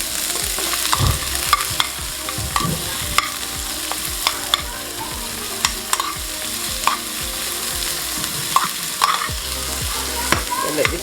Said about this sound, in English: So let this saute.